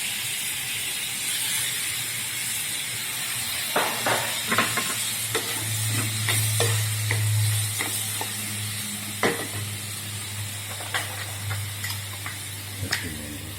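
Ingredients for shrimp in coconut milk go into a pan, giving a steady sizzle with scattered clinks and scrapes of stirring, a louder hissing swell midway, fairly close and with no talking.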